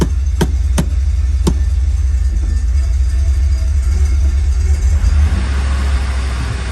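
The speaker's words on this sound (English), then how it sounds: "I give it a little bit of throttle. It wants to die." A vehicle engine idling at around 1500 rpm with a steady low rumble, given a little throttle and struggling as if about to stall; a few sharp clicks are heard near the start.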